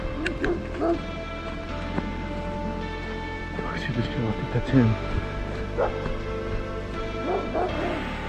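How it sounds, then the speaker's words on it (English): Big dogs in a video game bark and whimper in short bursts, with a few higher yips, while people talk quietly over them. "Those are big dogs."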